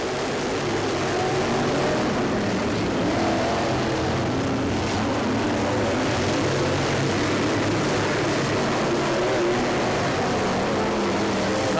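Race cars roar down the straight on the final lap in a steady, continuous engine drone that sounds somewhat distant and stays constant with no talk over it.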